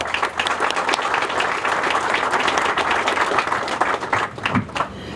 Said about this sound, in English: that deserves a huge hand of applause